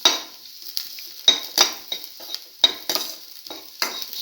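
Ginger and salt stir-fried in a pan with a utensil, a close, steady sizzle broken by repeated scraping and clinking strokes against the metal.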